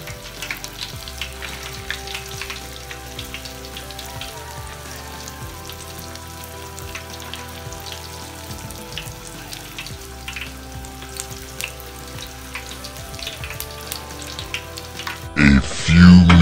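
Korean-style corn dogs bubble and sizzle in hot oil, a steady crackling fry heard up close, ending with a louder clatter.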